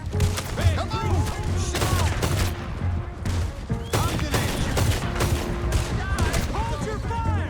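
Dense Red Dead Redemption 2 gunfight with a rapid, overlapping volley of gunshots and booms, loud and continuous, layered with shouting voices and other battle noise.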